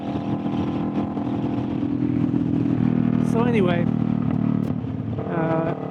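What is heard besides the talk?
Kawasaki Vulcan S motorcycle running with loud aftermarket exhaust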